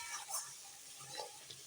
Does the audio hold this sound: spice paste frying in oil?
yes